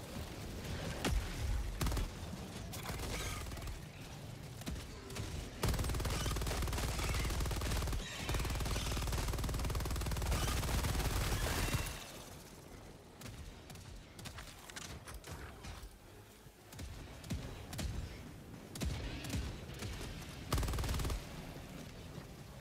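Deployed sentry turret opening fire in Helldivers 2, long loud bursts of rapid automatic gunfire with brief pauses between volleys, mixed with heavy battle noise and some scattered booms.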